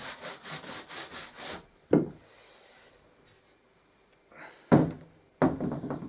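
A brush or hand dusts debris off a board before priming, making a fast series of close, rhythmic rubbing strokes, then a pause broken by a couple of light knocks before more brisk sweeping.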